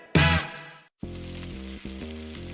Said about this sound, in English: That's the sound of steak searing in its juices on your new pellet grill.